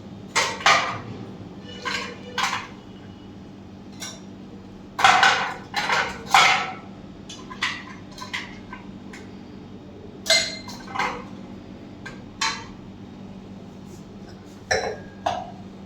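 Ice cubes clinking in a shaker while a vodka drink is prepared, sharp irregular rattles and clinks in bursts over a low steady background hum, fairly close, with no speech.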